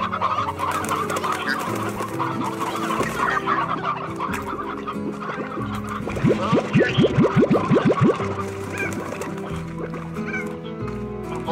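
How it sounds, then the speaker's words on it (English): Chickens cluck in the Slime Rancher video game, a flock giving steady overlapping clucks and coos with a fast burst of rapid notes in the middle, close and fairly loud, as people talk faintly. "Oh my god, there's so many chickens."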